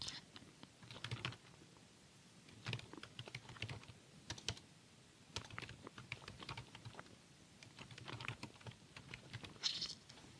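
A computer keyboard is typed on during accounting data entry, with irregular clusters of quick clicks and short pauses, close and quiet throughout, with no voices.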